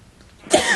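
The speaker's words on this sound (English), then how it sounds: "Excuse me, I sneezed." A single abrupt sneeze bursts out near the end after a quiet moment, loud and close, a sharp breathy explosive blast.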